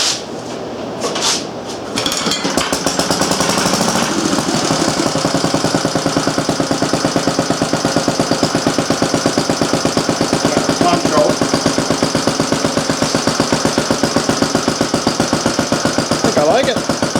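A Briggs small gasoline engine pulls over and catches after a couple of brief tugs, then settles into a loud, steady rapid putter that runs continuously close by.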